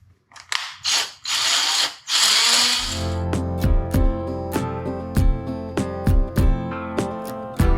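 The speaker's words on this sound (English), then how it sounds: "try to use a left-handed drill bit instead of a right-handed drill bit" Left-handed drill bit grinding into a broken stud in a junkyard 5.3 LS engine block, opening with short bursts of whirring, then settling into steady ratcheting clicks and metallic chatter.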